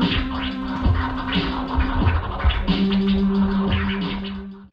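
A DJ scratching vinyl on a turntable: fast, choppy scratches over a looping beat with steady low tones, dense and loud throughout with no voices.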